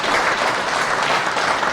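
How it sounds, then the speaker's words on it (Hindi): An audience at a Hindi comedy poetry gathering bursts into loud, dense clapping, a thick wall of hands that holds steady throughout with no voices on top. "एक बार जोरदार ताली बजाइए"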